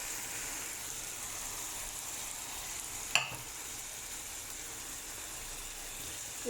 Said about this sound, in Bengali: তো আমি ছোলা বোনা করে নিতেছি